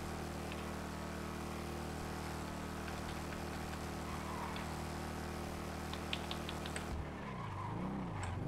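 A motorcycle engine in a multiplayer zombie role-play video game holds a steady, loud drone throughout, with its tone shifting and wavering near the end.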